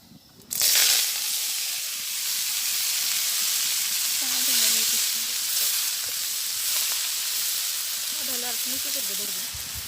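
Red amaranth greens sizzling in a hot pan in a village kitchen, a dense, steady frying hiss that starts abruptly as the greens go in and carries on loudly throughout, with occasional faint voices and stirring underneath.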